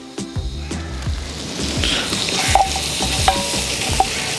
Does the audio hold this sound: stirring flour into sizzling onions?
yes